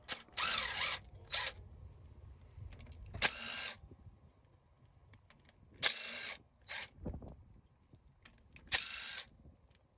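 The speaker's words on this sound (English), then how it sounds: "Next you can remove the 6 bolts that hold the plate on." Six bolts come off a pump plate, heard as short bursts of ratcheting tool clicks separated by quieter pauses and faint metallic handling, close up with no talk.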